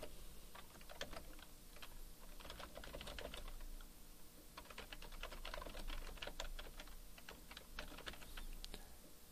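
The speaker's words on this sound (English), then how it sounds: "I'll type the words" Steady, rapid clicking of a computer keyboard as someone types HTML code, close up and continuous with brief pauses between bursts of keystrokes.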